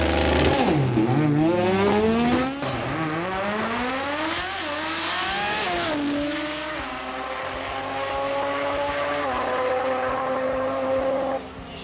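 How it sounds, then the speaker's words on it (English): Drag racing cars, a Jett Racing Ute against a Mazda RX3 at a Sydney drag meet: loud high-revving engines climbing through gear changes, the pitch rising and dropping repeatedly as the cars scream down the strip. "McKern Pro Compact saw Kelly Betts in the Jett Racing Ute go up against Andrew Maratos in the RX3"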